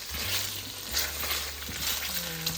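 Pork belly frying in a pan as it renders its own fat, a steady broad sizzle running throughout with low hum and faint background voices.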